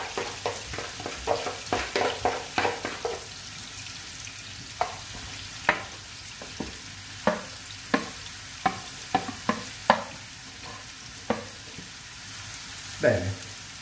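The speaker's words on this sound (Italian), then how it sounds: "facciamo dorare anche le nostre carotine" Carrots brown in a frying pan for an Italian white meat ragù, a steady soft sizzle broken by a run of sharp, irregular stirring knocks against the pan.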